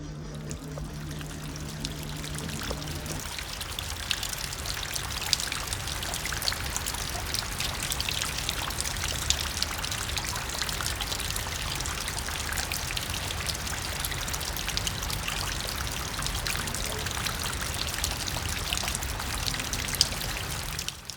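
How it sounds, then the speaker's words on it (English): Morning rain falls steadily on a woodland campsite, a dense, constant patter of drops on surfaces lasting throughout with no voices. "As you can see, we are getting rained on here this morning."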